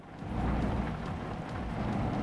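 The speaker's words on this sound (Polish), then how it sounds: "teraz pada deszcz" Rain falls steadily in the truck-driving game Euro Truck Simulator 2, a soft, continuous patter with a low rumbling undertone and no voices.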